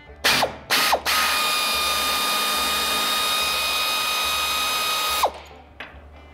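A socket ratchet wrench clicks twice, then a power tool whines steadily for about four seconds, turning a bolt on a rusty car door being removed. It ends with a falling pitch and a few light clicks, all close and loud.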